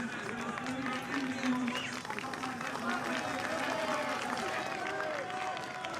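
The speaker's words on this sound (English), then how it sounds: "the crowd cheering him on in the colours of the Dutch national champion" Spectators along a cyclo-cross World Cup course in Valkenburg, Netherlands, cheer and shout continuously for a passing rider, a dense sustained crowd roar with a commentator talking over it.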